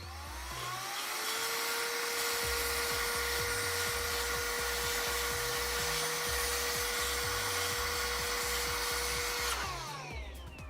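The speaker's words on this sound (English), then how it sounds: "Air compressor." An air compressor duster blasts a continuous loud hiss of air into a PC case, one long steady burst of roughly eight seconds with faint clicks underneath, ending abruptly.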